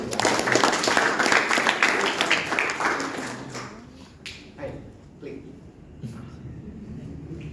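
Applause from a church congregation rises loud and dense at the start, then fades after a few seconds into scattered claps and low voices.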